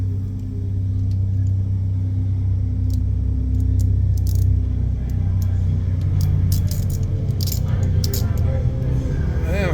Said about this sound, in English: sound like the four-wheeler crew in the neighborhood out riding around